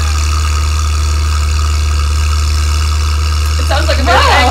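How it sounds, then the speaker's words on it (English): A motorcycle engine droning low and steady outside a suburban home, heard from indoors at a distance, with a brief burst of voice near the end. "A motorcycle."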